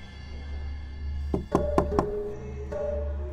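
Someone knocks on a bathroom door: four quick, sharp raps close by, standing out over a low steady hum, followed by silence.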